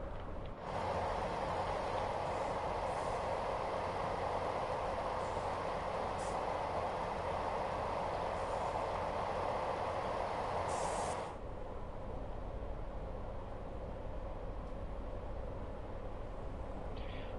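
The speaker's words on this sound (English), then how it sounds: "We love an on-time train." Train running in Train Sim World 6 on the Fife Circle Line, a steady rolling rumble with a brighter rushing band that drops away partway through and leaves a lower, quieter running hum.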